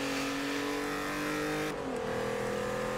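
Audi race car engine in Forza Motorsport 7, a steady loud drone that shifts pitch sharply partway through as the gear changes, heard alone without voices.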